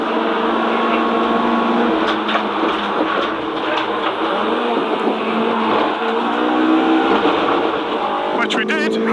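A race car laps the Snetterton circuit in qualifying, its engine roaring loudly and continuously with rising and falling revs through a long right-hand bend, while a driver talks over it.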